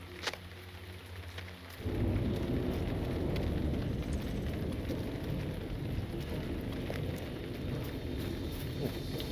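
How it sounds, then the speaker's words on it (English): Heavy rain pours steadily in the game Lord of the Rings Online, a loud, dense hiss that swells suddenly after a quieter opening and then holds at a near-constant level with a low rumbling undertone. "It's still raining hard"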